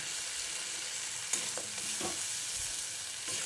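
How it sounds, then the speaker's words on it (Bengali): Beaten egg stirred continuously in a hot pan while scrambling into a fine-grained bhurji, a steady soft sizzle with a few spatula scrapes and taps, close and alone without talk. "ডিমটা দিয়ে অনবরত নেড়ে চেড়ে একটা ভুর্জি বা ভুজিয়া বানিয়ে নিতে হবে"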